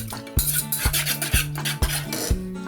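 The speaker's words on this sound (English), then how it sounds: "So I'm going to be stirring." Spoon stirring coconut milk flavored with vanilla and lime slices in a metal pot on a gas stove, with regular scraping strokes about every half second, close and fairly loud, no voices.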